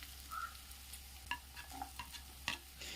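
Onions and curry leaves softening in a covered pan for a brinjal curry, a faint steady sizzle under a few soft clinks and scrapes of a spoon, no voices.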